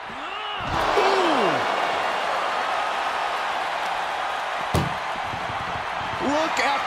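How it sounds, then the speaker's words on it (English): An ambulance door is slammed shut during a wrestling ambulance match, a sharp bang cutting through a steady arena crowd roar. A fainter thump comes earlier, and a commentator's voice is present. "And they can slam this door shut."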